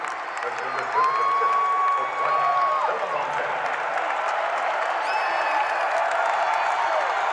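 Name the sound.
basketball arena crowd cheering after a made shot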